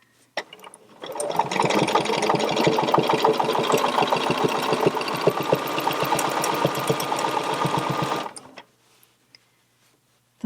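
A sewing machine stitches a ruler quilting design on a pinwheel quilt block, a close, busy needle clatter that runs for about seven seconds and then stops into near silence.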